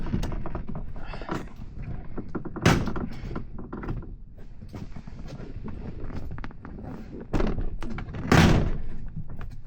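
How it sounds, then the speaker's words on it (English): Prying off the interior door panel of a 2013 Chevy Express van produces a series of scattered plastic clicks, knocks and thumps, with a few louder pops and snaps as clips release near the end, close and fairly quiet. "You have to pop this door panel off."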